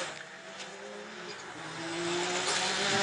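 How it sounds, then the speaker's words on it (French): Ferrari F40 race car spinning around during the 1994 24 Hours of Le Mans, engine whine climbing in pitch and growing louder amid broadband track noise and faint tire scrub. "un superbe 360 pour une Ferrari F40"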